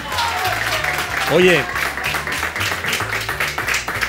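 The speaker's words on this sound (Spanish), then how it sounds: "Aplaudan ustedes." A live TV studio audience claps in a loud burst under a host's talking, with the applause rising and holding through the short stretch.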